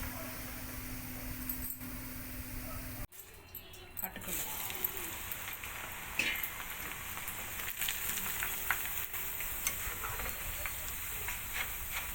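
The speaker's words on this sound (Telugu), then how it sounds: "బాగా నూనె మరిగితే చక్కగా వితిన్ టూ మినిట్స్లోనే మనకి ఫ్రై అయిపోతుందండి" Cornflakes fry in very hot oil, a continuous soft sizzle and crackle that follows a sharp clattering drop partway through, with steady bubbling hiss carrying on to the end.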